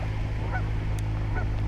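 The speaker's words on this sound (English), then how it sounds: "Found these mergansers swimming along, and Canada geese, which are absolutely everywhere." Canada geese honk near beaver ponds, giving two short, separate honks a second apart, moderately distant over a steady low background rumble.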